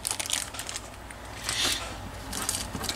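A plastic bag holding model ship detail parts crinkles and crackles up close in short, uneven bursts.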